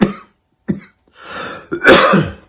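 A person coughs and clears their throat in a few separate bursts, close and fairly loud, with short pauses between them and no talking.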